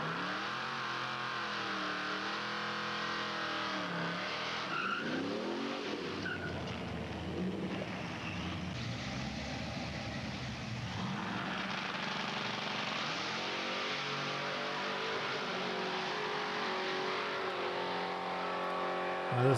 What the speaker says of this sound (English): This is my brother's blue and white 89 Mustang GT that he had.